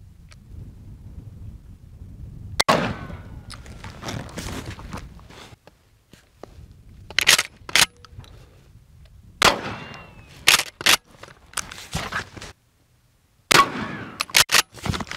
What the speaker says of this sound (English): now we're gonna lay into it with the 12 gauge and see what happens